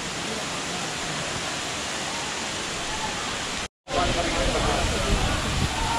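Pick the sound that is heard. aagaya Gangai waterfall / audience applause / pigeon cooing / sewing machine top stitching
aagaya Gangai waterfall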